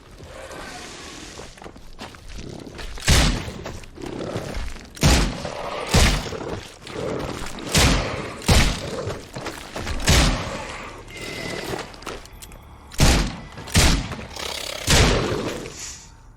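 Revolver gunfire in The Sinking City, a horror action game: about a dozen sharp, loud shots spaced irregularly roughly a second apart, with dull thuds and shuffling between them and no talk.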